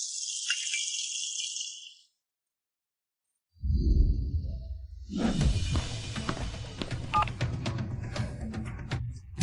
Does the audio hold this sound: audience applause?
no